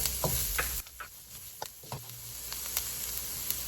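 Onion sautés in a pan for sweet-style Filipino spaghetti, giving a steady close sizzle and crackle with a few light clinks and stirring knocks.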